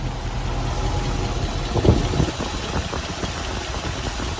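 A 1973 Mercedes-Benz 450SL 4.5-liter engine idles steadily up close, a low even rumble with belt and fan whir and a brief louder knock near the middle.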